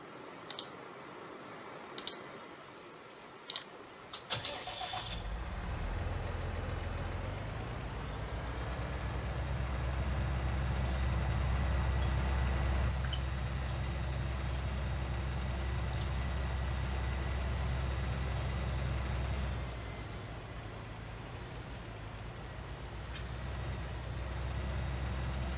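A New Holland TC5.90 tractor in Farming Simulator 19 cranks with a few clicks, then its engine catches and settles into a steady, loud diesel rumble that holds for about fifteen seconds before easing to a lower idle.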